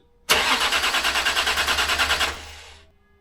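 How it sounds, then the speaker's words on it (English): A Land Rover diesel engine cranks with a fast, even starter rhythm for about two seconds, loud and close, then winds down without catching. "So, start your engine With a new diesel filter."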